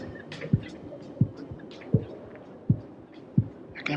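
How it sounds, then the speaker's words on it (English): A heartbeat pulses in low, muffled thumps at a steady pace of about one beat every 0.7 seconds, faint under a soft background hum. "I got my heartbeat"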